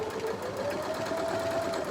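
A sewing machine stitches a woven ribbon star quilt block, running steadily and close with a rising whine as its speed builds, alone without talk.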